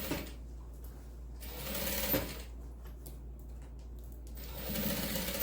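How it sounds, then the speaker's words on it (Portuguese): A sewing machine runs steadily while stitching a tote bag, with its motor whirring loud and close, easing slightly in the middle and picking up speed again at the end. "Vou costurar."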